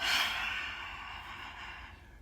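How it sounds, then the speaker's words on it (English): A long, breathy exhale in a guided breathing exercise, strongest at the start and slowly fading over about two seconds, soft and close with no talking. "So inhale and hold it. And exhale."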